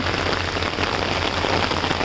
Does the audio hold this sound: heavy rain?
yes